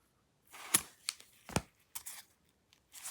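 Scissors snip a small slit into boxing glove material, several crisp, close cuts in short separate bursts.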